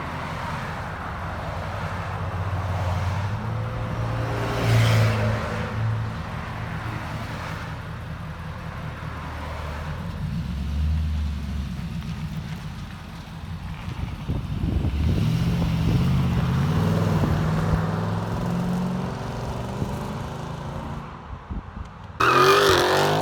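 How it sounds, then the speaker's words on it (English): A 2018 Nissan Titan pickup with a 5.6L V8 and a 14-inch Magnaflow exhaust idles and revs with a steady, deep low rumble, swelling midway through, with some wind buffeting outdoors and no talking. "What I like about the Magnaflow is it's not too loud, too not raspy, it's just a clean,"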